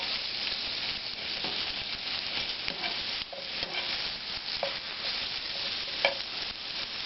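Vegetables frying in a pan for a steak sandwich, a steady close crackling sizzle with occasional stirring clatters and pops, no voices.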